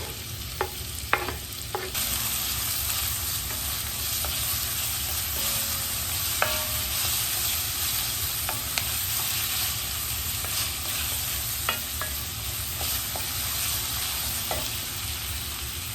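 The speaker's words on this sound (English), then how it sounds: "To my pot, I'm going to go ahead and add my onion. And my garlic." Onion and garlic frying in oil in a pot, a steady loud sizzle running throughout with a few clinks of a stirring utensil near the start.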